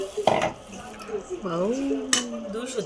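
A cooking pot of dried chili curry is set down on a stove and covered with its lid, giving two short metallic clanks, one near the start and one near the end, with someone talking in between.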